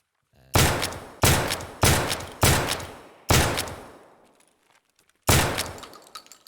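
Shotgun in the video game Escape from Tarkov fires six loud, booming blasts, four in quick succession, a pause, another shot, then a longer gap before the last, each with a short decaying tail and no talk.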